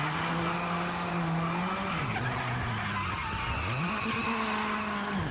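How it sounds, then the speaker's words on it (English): Rally car tires squealing and skidding in the racing game V-Rally 4, a sustained loud screech with rising and falling pitch over a steady engine drone, no voices. "The way the tires squeal. There's a lot of squealing here."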